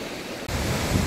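A waterfall in Kings Canyon, California roars as a loud, steady rush of falling water that swells after a brief cut, with no voices.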